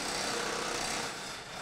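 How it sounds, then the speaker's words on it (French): A pneumatic wheel gun whirring steadily close by as it loosens a wheel nut during a race car wheel change at the 24 Hours of Le Mans, a continuous rattling buzz that eases slightly near the end. "il faut d'abord dévisser l'écrou, changer la roue, et après remettre l'écrou"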